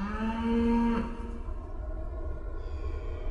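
A single cow gives one long, loud moo in open western American rangeland, the low drawn-out call fading after about a second into quiet outdoor ambience.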